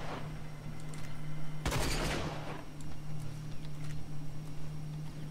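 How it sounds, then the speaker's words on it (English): A single loud, sharp gunshot from a sniper-style rifle in the shooter game Rage cracks once, then trails off, over a steady low hum with faint clicks afterward. "this gun takes some steadying once you've fired it off once"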